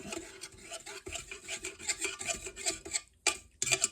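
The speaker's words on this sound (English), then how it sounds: "Sorry for the scraping." A utensil scrapes the bottom of a bowl to blend honey into a yeast bread mixture, producing rapid close rhythmic scratching and rubbing strokes with small pauses, loud and alone.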